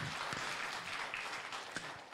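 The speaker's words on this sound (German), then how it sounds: "Mal einen Applaus" A congregation at a church family service gives a short round of applause, a soft, even patter of scattered clapping heard from a little distance.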